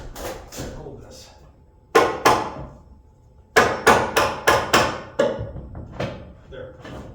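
Hammer blows drive a metal joist hanger into wooden floor framing during a full floor replacement, landing as sharp close knocks, first singly with pauses and then in a fast run of about six, with voices talking between strikes.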